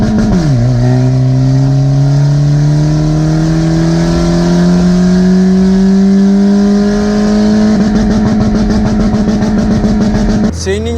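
A modified car with an Akrapovič exhaust line idles while warming up, turbos not engaged; a loud, close, steady engine drone slowly climbs in pitch, then dips briefly at the very end.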